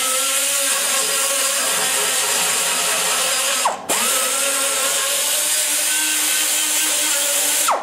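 Power grinder porting a ProComp 190 Stage IV header tube, a loud continuous high whine held steady for several seconds, briefly dropping and restarting halfway, close up with no talk.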